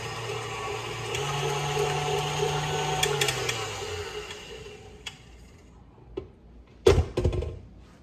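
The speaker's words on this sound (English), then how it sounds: "I'm gonna start by beating 2 eggs for this" Two eggs beaten for batter with a mechanical whir, a steady motor hum for about four seconds that slows and stops, followed by a few sharp knocks and clatters.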